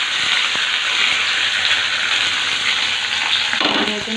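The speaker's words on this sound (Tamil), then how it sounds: "வெங்காயத்தை நல்லா வதக்கி வச்சுருவோம்." Loud, steady sizzling of chopped onions sautéing in a hot pan for sambar, close up, frying continuously with faint stirring noises toward the end.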